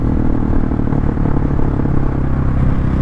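Husqvarna 701 Supermoto from 2021 with an aftermarket exhaust and changed air filter, a loud, steady engine rumble with clattering texture running continuously and close by.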